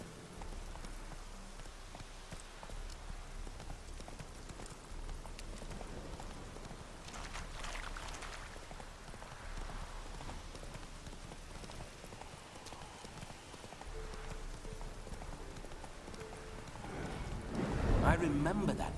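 Faint horse hooves clop along at a walk in the video game Witcher 3: Hearts of Stone, beneath quiet talking and soft ambient noise, with a louder clatter near the end.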